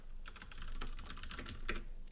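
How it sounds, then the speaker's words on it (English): Fast typing on a computer keyboard, a close, steady patter of distinct key clicks over about two seconds with no talking. "let's type in something like"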